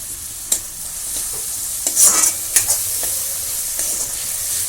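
Chopped tomato frying in a pan for spicy Indian-style masala Maggi, a steady close sizzle broken by several sharp scraping stirs of a spoon against the pan.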